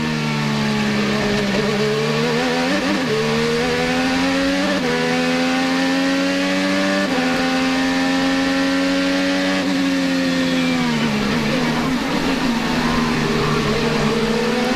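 An IndyCar race car engine at the Long Beach street race, a loud sustained high-pitched whine that drops in pitch several times as the driver lifts off the throttle, then climbs again, with no voices.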